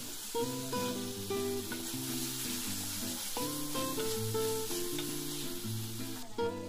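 Fried lentils go into a sizzling, oily spice mixture for khichuri and get stirred. A steady frying hiss sits under a louder melodic music bed, with no talking.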